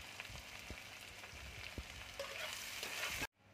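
Curry leaves, onion and chilli frying in a pan, a steady crackling sizzle heard up close with occasional stirring clicks, ending in a sudden cut to near silence.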